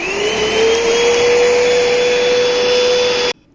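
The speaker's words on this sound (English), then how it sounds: "Obviously, this is a pet cleaner vacuum." A Hoover Pet carpet washer vacuum runs with a loud, steady whine and rushing airflow, heard alone up close, then cuts off abruptly near the end.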